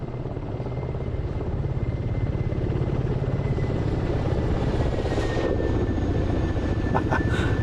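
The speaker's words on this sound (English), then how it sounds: "Who that just overflew me in a chopper?" A helicopter thrums past overhead in the DCS flight simulator game, its rotor pulsing steadily and loudly throughout, with a faint high engine whine above the beat.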